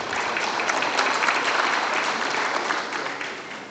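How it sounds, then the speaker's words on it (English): An audience at an Omani-Indian business forum applauds in a dense, steady wash of clapping that holds for several seconds, then begins to ease off. "Let's all give them a round of applause for their valuable contributions."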